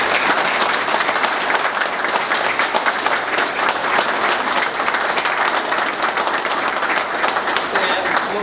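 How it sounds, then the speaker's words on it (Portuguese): Loud, sustained applause from a crowd honoring a family at a fraternal order gathering, dense clapping filling the room without letup, with voices faintly mixed in. "eu peço uma salva de palmas à família do nosso irmão"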